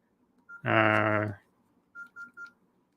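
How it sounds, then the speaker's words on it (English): A phone gives a notification alert: one beep, then three quick identical beeps in a row, clear and close in a quiet room, with a burst of voice between them. "now my phone's beeping at me"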